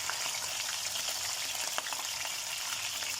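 Whole tilapia frying in hot oil in a pan, a steady dense sizzle with scattered crackles and pops throughout, close and fairly loud with no talking.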